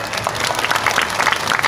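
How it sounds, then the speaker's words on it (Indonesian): Applause and clapping from a crowd at a religious haul gathering in Indonesia, greeting a guest named Pak Dani; steady, dense clapping fills the whole short stretch at moderate loudness. "tepuk tangan untuk Pak Dani"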